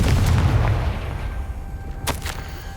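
A Confringo fire spell blast in Hogwarts Legacy, a loud booming burst that rumbles and decays over a couple of seconds, with a short crackling flare near the end.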